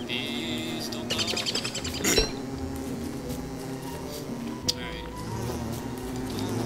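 Bees buzzing around in the video game Don't Starve, a continuous insect drone with a few clinking game effects over a busy background, steady and fairly close, no talking.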